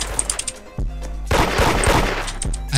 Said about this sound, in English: What kind of gun is that?